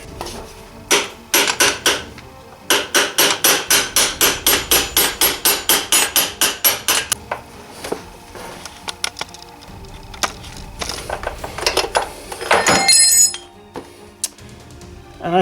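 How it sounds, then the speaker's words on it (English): Sharp metallic hammer blows on a socket extension driving out a Suzuki RF900 rear suspension linkage bearing ring out, first a few scattered strikes, then a fast steady run of about fifteen evenly spaced hits, followed by irregular clanks and taps. "you can drive it out using a socket extension and hammering on that end here"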